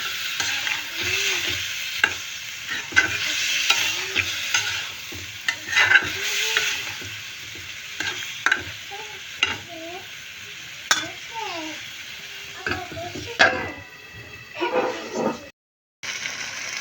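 Vegetable chorchori sautéed in oil in a pan: a steady sizzle with repeated scraping stir strokes and occasional utensil knocks, close up, with a voice talking underneath at times.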